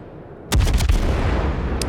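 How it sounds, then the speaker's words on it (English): Warship guns in World of Warships, a Yorck tier 7 cruiser, fire armor-piercing shells: a sudden salvo of several heavy booms in quick succession after a brief lull, fading into rumble, with one small late pop. "I am shooting AP, of course."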